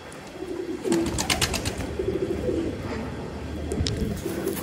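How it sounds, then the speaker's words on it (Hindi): Pigeons coo in low, repeated throaty phrases, with a few brief higher chirps in the background. "ये है जी कबूतर"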